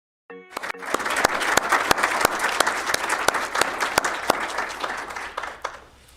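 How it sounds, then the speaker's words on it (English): Graduating atmospheric sciences students at a university awards ceremony receive applause, with steady clapping from the crowd held for about six seconds and a few sharper claps standing out close by. "let's have a round of applause for our graduating"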